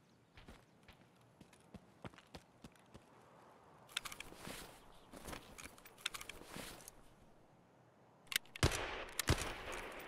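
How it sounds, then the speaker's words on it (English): Gunfire in the Escape from Tarkov video game: sharp, scattered shots crack out at irregular intervals, with a few louder bursts near the end, over quiet footsteps and faint background game ambience. "Is that you shooting?"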